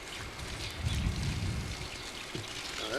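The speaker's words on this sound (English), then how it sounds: "Oh, that's pretty good stream of water there." Water gushing from a 3/4 inch garden hose onto the ground, a steady rushing, splashing stream that sounds close and continuous over a dense noisy background.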